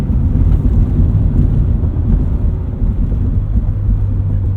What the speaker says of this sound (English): Alright, this is a pretty bumpy road up here. A lot of potholes. We'll hit it at about 45, 50 miles per hour.